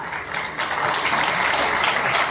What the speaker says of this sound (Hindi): तालियां पूरी कमजोर लग रही मुझे